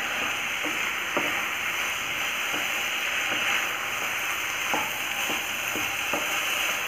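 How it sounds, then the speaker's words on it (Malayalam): A rose apple pickle mixture sautéed in a pan gives a steady hiss and sizzle throughout, with a few soft scraping and clinking stirs from a utensil every second or so and no voices. "വെള്ളമെല്ലാം നന്നായിട്ട് മാറണം. നന്നായിട്ട് വഴറ്റിയെടുക്കാം."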